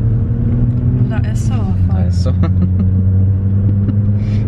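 An automatic car engine held at high revs drones steadily and loudly inside the car as people talk over it.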